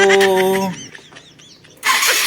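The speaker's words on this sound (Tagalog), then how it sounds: "Try natin itong motor ko kasi ayun oh, pugak-pugak. Nagpugak-pugak na yung andar." A motorcycle engine starts up and runs unevenly, sputtering and misfiring; its loud running sound is cut off briefly, then it picks up again toward the end.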